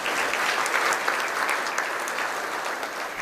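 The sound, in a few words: audience applause at chamber luncheon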